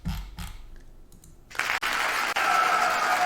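After a few low thumps and a short quiet gap, a video game's applause sound effect, dense clapping that swells in and continues steadily.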